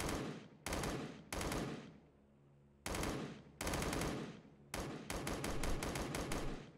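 Automatic gunfire in a battle royale shooter game, loud rapid bursts of shots in several clustered volleys separated by brief pauses, the last volley sustained and continuous, with no talking.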